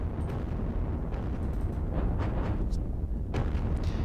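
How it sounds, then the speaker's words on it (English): Game tank fire from a T-34 in the Kursk battle strategy game Panzer Battles Kursk, a continuous low rumbling boom with scattered sharper bursts and crackles, loud and steady throughout with no talking. "it's T-34 firing there"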